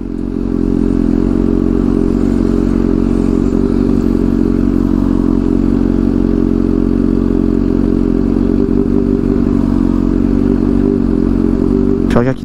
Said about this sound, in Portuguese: Tá osso pra manobrar a moto, né?